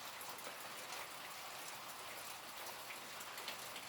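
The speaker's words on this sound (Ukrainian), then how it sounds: "У нас іде дощ, і це ранок." Steady morning rain patters softly and evenly on surfaces, a faint continuous hiss with no voices.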